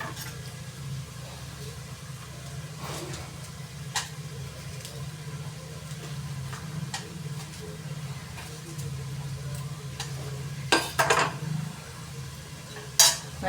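A spoon stirs ginger garlic paste and chopped green chilies in a pan for a vegetable biryani, with scattered clinks and scrapes against the metal over a low background hum, growing louder toward the end.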